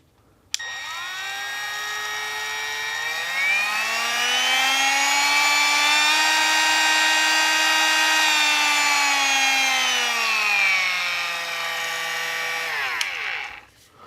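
A Proxxon variable-speed rotary power tool motor spins up, whines steadily at high speed with its pitch rising and falling slightly, then winds down and stops.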